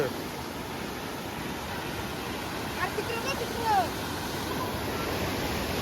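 A rain-flooded river rushes at full speed, a broad continuous roar of moving water heard close and steady, with a couple of brief louder surges and a voice faintly present.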